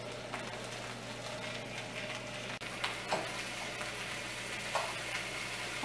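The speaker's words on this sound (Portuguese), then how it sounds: "adoro esse barulhinho de coisa fritando." Continuous soft sizzling of olives frying in a pan, with a few faint pops and utensil taps, fairly quiet and close.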